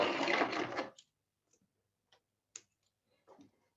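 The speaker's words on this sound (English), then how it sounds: "sew back a few stitches, and then sew again forward. And this time I'm going to go right off the fabric." A sewing machine stitches back and forward through white fabric and runs right off the edge: a dense, close whirring burst, then a few sparse, faint ticks and clicks.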